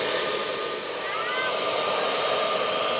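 A hair blower roars in a steady, close, loud whoosh with a faint whine while heating decals being applied to a Yamaha Mio i 125 motorcycle.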